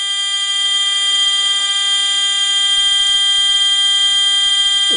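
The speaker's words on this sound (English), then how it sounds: "The lamps are not functioning, but the buzzer is." A fischertechnik driving robot's buzzer sounds as a loud, continuous, steady electronic tone, shrill and unbroken for the whole stretch with faint clicks underneath.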